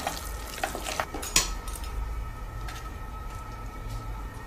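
Orange pulp being stirred in a pan on the stove, a close scraping and gentle sizzle with a few sharp clinks of a utensil against the pan, quieter toward the end.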